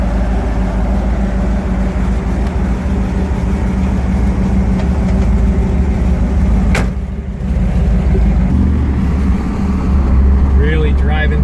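A 1957 Chevy Bel Air running on AMSOIL lubricants drives along, its engine giving a loud, steady rumble with road noise, and a brief dip mid-drive, as a voice talks over it.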